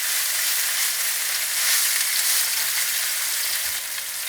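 Salmon searing in a hot pan gives a loud, steady sizzle and crackle of frying, close and continuous with a brief dip near the end, heard alone without talk.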